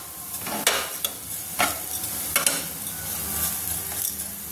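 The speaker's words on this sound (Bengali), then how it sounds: "তেলটা আমার গরম হয়ে গেছে, সিমাইটা ঢেলে দিচ্ছি। নিয়ে সিমাইটা ভেজে নিচ্ছি" Semai vermicelli frying in hot oil in a pan, a soft continuous sizzle punctuated by several sharp scraping stirs at an uneven pace.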